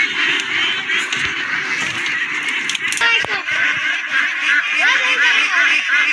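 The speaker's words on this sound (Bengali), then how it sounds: "ভিতরে হাঁসের পালা," Ducks in a duck pen quack in scattered, overlapping calls through steady background noise, with people talking nearby.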